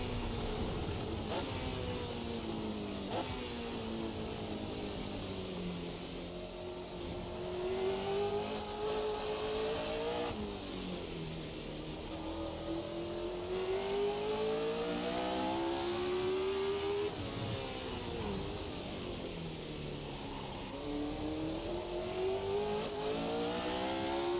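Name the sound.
Formula 1970 V8 race car engine accelerating, video game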